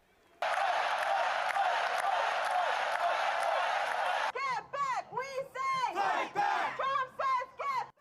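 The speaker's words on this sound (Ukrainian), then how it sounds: "Довга овація зал скандував Ми любимо Трампа та Борісь" A political rally crowd of about 2,500 gives a long ovation, a dense roar of cheering and clapping that gives way to loud rhythmic chanting in short bursts.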